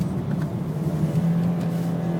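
A race car on a hot lap of the Nordschleife holds a steady, loud engine drone as it runs straight, heard from inside the car.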